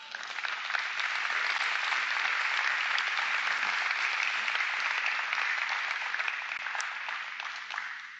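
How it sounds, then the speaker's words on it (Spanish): A church congregation claps together during a sermon, producing a steady, fairly distant wash of applause that holds evenly for several seconds and then eases. "Dale un aplauso."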